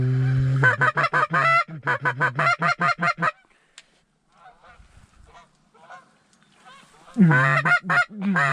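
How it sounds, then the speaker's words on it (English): Geese honk loudly and close in rapid, overlapping bursts on a Mississippi River duck hunt, fall nearly silent, then erupt again in a dense flurry of calls. "There's been some geese around."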